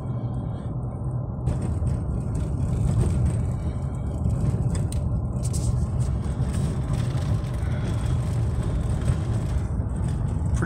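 Car interior on the drive toward Launch Pad 39B, a steady low road rumble and engine hum that swells slightly after the first couple of seconds and stays constant, fairly quiet overall.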